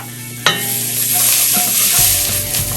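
Red curry paste, about a tablespoon, frying with ground turmeric in a pan for a coconut curry, a steady close sizzle broken by a sharp utensil clack and scraping stirs.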